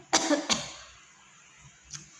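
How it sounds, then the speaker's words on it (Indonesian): Two sharp coughs close together, a short pause, then a softer single cough, close to the microphone in a quiet room. "maaf teman-teman, batuk-batuk"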